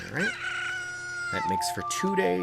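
A Cucco rooster in Zelda: Ocarina of Time crows at daybreak, one loud drawn-out game cock-a-doodle-doo followed by short clucking calls, with someone speaking over the end.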